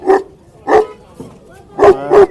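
Several sharp dog barks at a horse fair in Sri Muktsar Sahib, Punjab, come in bursts, a pair early, one or two more, then a quick double bark at the end, fairly close and loud.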